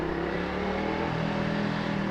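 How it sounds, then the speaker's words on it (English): Dense road traffic with cars passing close by, heard from a loud Honda VTR250 motorcycle ridden in Japan, forming a steady, continuous mix of engine hum and tyre noise. "look at this traffic. Not so fun."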